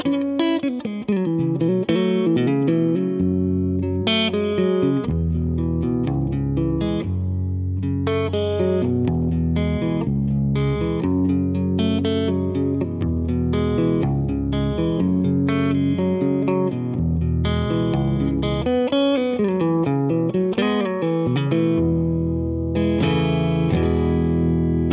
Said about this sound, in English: Let's add a little reverb in because that kind of makes things a little more realistic.